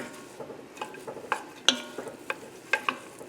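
Onion, celery and pepper sauté in a pot over moderate heat, with a soft steady sizzle broken by scattered spoon scrapes and knocks against the pot, close and fairly quiet.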